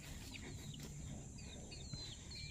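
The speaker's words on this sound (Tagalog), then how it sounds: "Oy, bakit mayroong ibang manok dito?" Quiet clucking and soft calls from chickens close by over a steady background hum, with scattered bird chirps.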